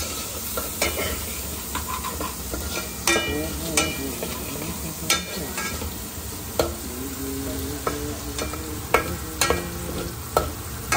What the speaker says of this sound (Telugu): ఇలా ఫస్ట్ మిర్చిని బాగా ఫ్రై చేసుకోవాలి అన్నమాట